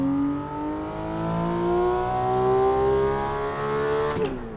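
A race car engine in an F1 racing video game, driven through a tunnel, holds a sustained, loud revving whine that climbs steadily in pitch for about four seconds before cutting off abruptly.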